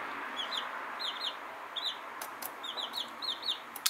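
Young roosters cluck in short, high, repeated bursts, several quick calls in irregular clusters, fairly quiet against a soft hiss with no talk.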